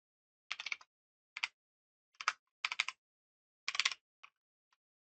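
Keystrokes on a computer keyboard come in several short bursts of quick clicks separated by pauses, close and fairly quiet, with no talking.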